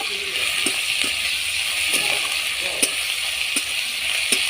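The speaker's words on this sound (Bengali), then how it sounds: "চিংড়ি মাছটা দিয়েও ভালো করে ভেজে নিচ্ছি" Shrimp frying in oil alongside green chilli and chopped onion, a loud continuous sizzle close up with periodic sharp clicks and scrapes from stirring in the pan.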